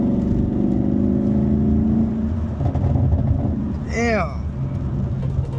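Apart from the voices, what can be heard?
2019 Camaro SS engine accelerating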